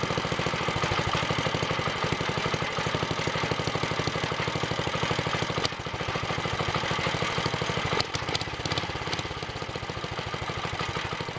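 The Kohler engine on a Wheel Horse 704 tractor, just repaired at the bearing plate, idles loud and close with a rapid, even chug while its idle speed is turned down. The rhythm shifts and slows slightly partway through, with no voices.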